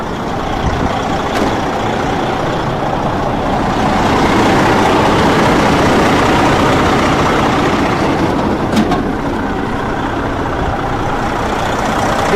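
A Detroit 60 Series diesel idles steadily in a 2005 Freightliner Columbia 120 truck, a continuous loud broadband rumble close by with the hood open, unbroken for the whole stretch and with no talking.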